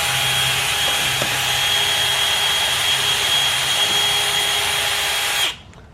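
A power drill bores a pilot hole through the sheet metal of a metal building, a steady high whine running for several seconds at close range before cutting off abruptly.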